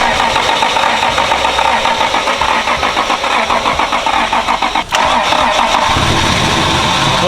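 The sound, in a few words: car engine starting and running after fuel pump primed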